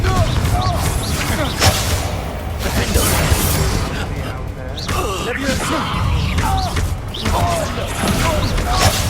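A Confringo fire spell blasting in Hogwarts Legacy, with crashing, shattering impacts and busy mechanical game effects layered densely and loudly throughout, voices mixed in.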